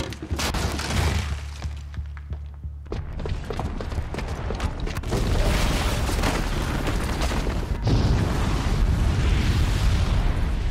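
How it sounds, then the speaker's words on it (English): A huge bomb explodes in the video game Horizon Zero Dawn, a loud booming blast with crashing debris that rolls into a long, rumbling aftermath, and no talk. "Wow, that was a huge explosion."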